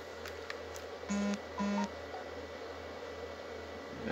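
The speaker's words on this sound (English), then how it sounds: "I just got a notification." In the Sonic Adventure DX video game, a notification plays as two short, identical electronic beeps in quick succession over a steady background hum.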